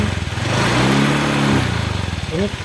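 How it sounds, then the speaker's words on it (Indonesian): A flood-hit Honda Vario motorcycle starts in a workshop, its engine cranking and catching into a loud, close, rough putter with a rising rev, while someone talks over it. "Jadi saya hidupkan tadi kan, untuk ngetes lagi saya hidupkan."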